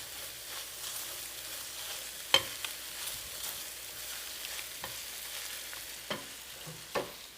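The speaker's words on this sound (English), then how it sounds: "You don't want to overcook your eggs and make them hard and dry." Soft eggs with cheese cook in a pan for an egg burrito, a faint steady sizzle under occasional scraping knocks of a utensil stirring them.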